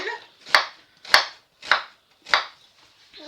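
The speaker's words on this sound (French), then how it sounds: "nous coupons nos oignons en fines lamelles" A knife slices through onions into thin strips on a cutting board, four crisp, evenly spaced cuts about half a second apart, close and distinct with no talking.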